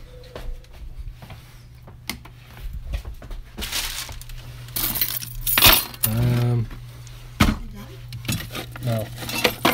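A bunch of van keys jangles and clinks in bursts close by, with metallic rattles coming and going and a low steady hum underneath.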